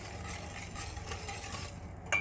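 Steady soft scraping and swishing of a spoon stirring milk and semolina in a pot, continuous and close, with a faint clink near the end.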